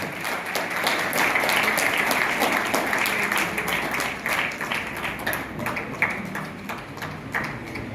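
Applause at a college anniversary event, a large indoor crowd clapping steadily for several seconds before gradually thinning out, with scattered individual claps at the end.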